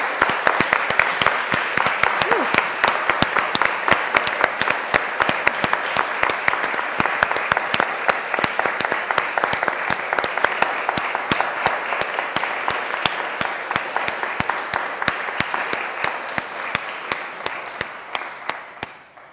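Sustained applause from a lecture audience at an LSE event on Black feminism in Europe, a dense, steady roar of many hands clapping for nearly twenty seconds before slowly tapering at the end.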